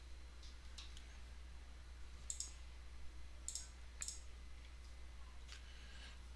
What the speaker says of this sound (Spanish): le doy un clic en el centro del documento, doble clic